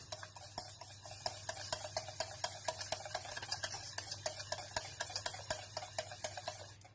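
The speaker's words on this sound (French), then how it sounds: "Et on va y ajouter les jaunes d'œufs. Voilà. On mélange." A spoon stirs egg yolks into a cornstarch and syrup mixture in a bowl, making steady, quick scraping taps that repeat close by, with no one talking, for gluten-free, dairy-free pastéis de nata.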